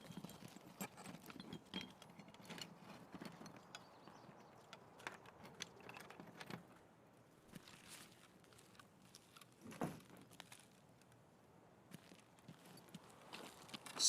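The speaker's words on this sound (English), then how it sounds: "Swear I just heard footsteps" Footsteps in the shooter game Escape from Tarkov, faint and distant irregular thuds and clicks spread across a quiet, low-level background of in-game ambience.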